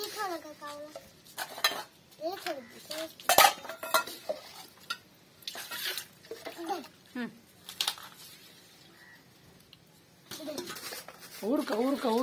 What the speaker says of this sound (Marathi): किती भांडी घासली